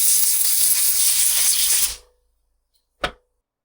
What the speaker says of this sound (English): the sander I use is just a 2-inch disc